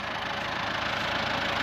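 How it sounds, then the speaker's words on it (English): A tractor engine idles at an agricultural ploughing show, a steady, close, low rumbling chug that holds an even level throughout with no voices. "Pretty tractor, isn't it?"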